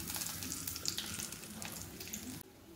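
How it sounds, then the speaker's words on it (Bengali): Whole cumin, a bay leaf and a dried chilli spit and sizzle in hot mustard oil, a close, soft, crackling hiss that drops off abruptly near the end, with no talking. "তেলটা গরম হয়ে গেলে হাফ চামচ মতন গোটা জিরে, একটা তেজপাতা আর একটা শুকনো লঙ্কা ফোড়নে দিয়েছি।"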